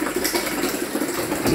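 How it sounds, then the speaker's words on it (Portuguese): Water from an artesian well pipe gushes steadily into a drum, with a pump nearby; a continuous, fairly loud splashing rush with faint mechanical rattle, and no voices. "Nós tá colocando ali, enchendo o tambor, enchendo uma caixa ali que é pra nós beber"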